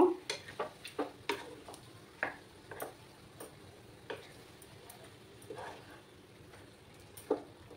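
A spoon stirs turmeric into kachu greens in a pan, making scattered sharp taps and scrapes against the pan over a faint, quiet sizzle.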